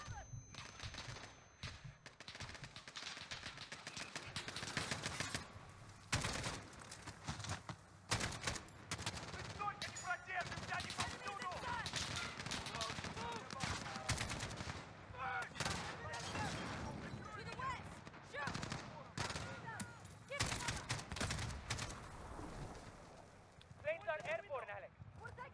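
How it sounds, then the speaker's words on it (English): Dense gunfire from Call of Duty Modern Warfare in realism mode: continuous bursts of automatic shots and sharp cracks go on throughout, with someone talking over the shooting. "Shooting people. Shooting friendlies."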